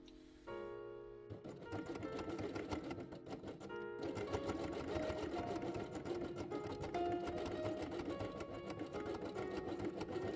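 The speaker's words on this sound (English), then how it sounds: "Place the completed element in the center and sew it on." A sewing machine stitches a felt element onto a quiet book page, its rapid even mechanical whir running continuously after a brief pause near the start, fairly faint and close with no talk.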